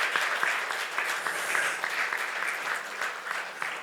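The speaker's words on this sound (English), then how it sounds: "Let's give them a better round of applause." An audience at a conference on global financial systems applauds in a dense, steady burst of clapping that carries on evenly throughout.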